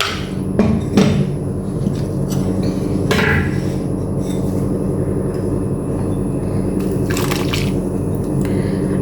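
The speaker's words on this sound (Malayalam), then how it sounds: "ഇനി നമ്മൾ ഇതിലേക്ക് അരപ്പൊഴിച്ചു കൊടുക്കാം" Ground coconut paste with small onions and garlic is poured into a Kerala dry shark curry, giving wet splashes and drips over a steady low background hum.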